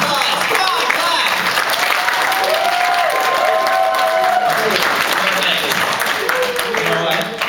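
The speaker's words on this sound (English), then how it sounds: "All right, thank you. Round of applause." An audience at an opening ceremony applauds steadily and loudly throughout, a dense wash of clapping from a large crowd with some cheering and voices mixed in.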